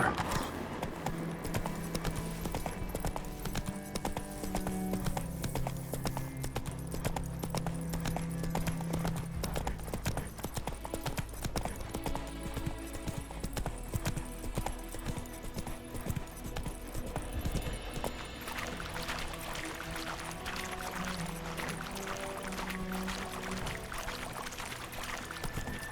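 Hooves of the horse Roach clip-clop at a steady rhythm across the whole stretch in The Witcher 3, over a layered game soundtrack, with a brief spoken word.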